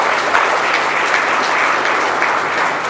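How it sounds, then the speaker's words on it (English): An audience at an annual finance lecture applauds a professor after his presentation, a loud, dense, steady clapping that holds evenly throughout and eases slightly at the end. "I think we should give him another round of applause."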